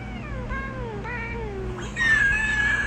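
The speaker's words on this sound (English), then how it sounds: "Why do you snort when you meow?" A domestic cat lets out a few rising and falling meows in quick succession, close and clear, ending in a brighter, drawn-out squeaky call.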